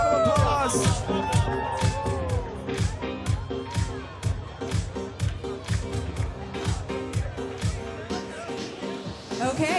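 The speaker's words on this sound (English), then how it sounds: "Round of applause." An arena crowd at the Eurovision Song Contest 2019 opening ceremony in Tel Aviv claps and cheers. Loud, rapid hand claps and scattered whoops ring out in a big reverberant space, and the cheering is bright at first before settling into a steady applause rhythm.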